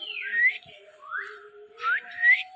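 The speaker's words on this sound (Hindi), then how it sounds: "सेम भाई अफ्रीकन ग्रे और येलो रिंग रिंगलैक्स ओ सीटी मारी है उसने वापस" An African grey parrot at a bird farm whistles back in a few clear rising and falling notes, near and fairly loud, with a faint steady tone underneath and no talk.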